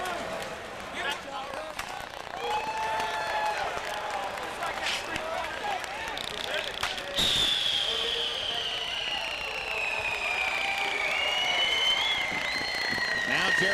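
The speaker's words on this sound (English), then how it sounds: "fireworks are exploding, confetti in victory lane" Fireworks pop and crackle over a loud, steady crowd roar at Texas Motor Speedway after the 1997 IndyCar race, with a rising whistle streaking through the second half.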